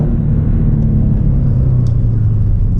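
A Toyota 86 cruising on the road, its engine and tire rumble droning steadily and loud from inside the car with no voices.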